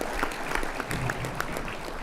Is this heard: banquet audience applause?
yes